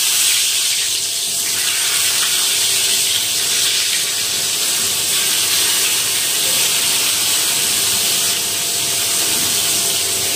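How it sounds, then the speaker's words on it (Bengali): Eggplant slices frying in a pan give off a loud, steady broadband sizzle that holds evenly from start to finish, close up and without pauses. "এখানে বেগুন ভাজা চাপিয়ে নিয়েছি"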